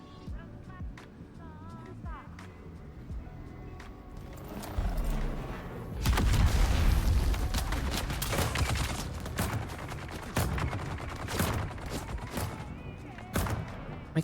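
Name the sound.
turret firing rounds in a video game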